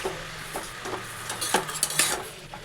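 Garlic and black cumin seeds tempering in a pan, heard as clinking utensil scrapes and taps against the pan over a faint low sizzle, with a few sharper metallic knocks toward the end.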